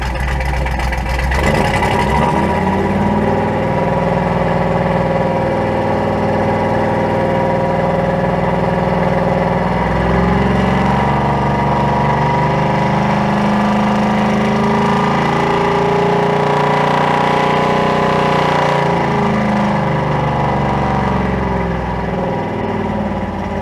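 A car engine fitted with Holley Sniper EFI runs loud and close for the whole stretch, swelling and easing as it is revved up to about 3,500 RPM, with steady harmonic drone and no talking.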